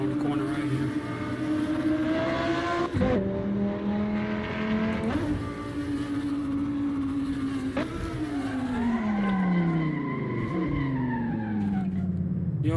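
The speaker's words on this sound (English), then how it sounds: "I did not know that the Audi R8 was so much fun to drive" An Audi R8 hypercar tears around a track in the Assetto Corsa driving game, its engine note climbing and dropping through gear shifts, with tire squeal and skidding as it corners.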